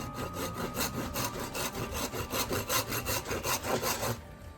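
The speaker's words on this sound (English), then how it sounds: "maybe first we ought to try with the wood file" Wood file rasping a wooden cart handle in quick, even back-and-forth strokes, about four per second, close and scratchy, then stopping abruptly near the end.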